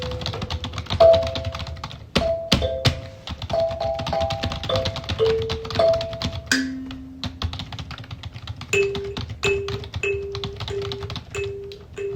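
Keys clack on a computer keyboard in a steady run of soft taps, mixed with tonal musical notes, close and fairly loud throughout.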